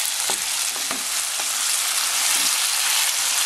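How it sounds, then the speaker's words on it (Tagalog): Tomatoes sauté in a hot pan for ginisang chayote, a steady bright sizzle running throughout with a few soft stirring clacks from a utensil against the pan. "hayaan lang natin medyo maluto yung tomatoes"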